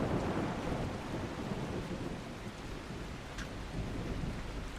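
Heavy thunderstorm with dense, steady rain roaring close by and low rolling thunder underneath, loud and continuous throughout with no voices.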